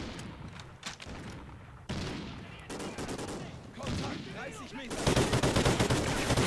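Gunfire from a newly picked weapon in Call of Duty: Ghosts on PS4, a dense run of rapid shots that grows louder and more sustained toward the end, mixed with game ambience.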